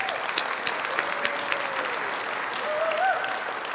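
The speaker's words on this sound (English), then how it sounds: "So round of applause." Audience applause at a city State of the City and employee recognition ceremony in West Covina, a steady wash of clapping from a crowd with a few sharper claps and a faint tonal squeal near the end.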